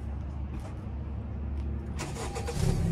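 A 10th-generation Honda Civic fitted with an Invidia N1 exhaust cranks and fires up, a rumbling engine start rising into a louder rev near the end, close by, with voices faintly present.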